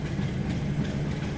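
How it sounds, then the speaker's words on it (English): A train running back from Harwich station rolls past near a level crossing, a steady close rumble of wheels and engine with no talk. "I managed to get the train coming back from Harwich station while I was going to the level crossing"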